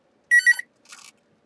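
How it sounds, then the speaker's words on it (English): A telephone gives a short electronic ring, two bright tonal trills followed by a softer burst, heard alone and close in a quiet room. "It's a phone."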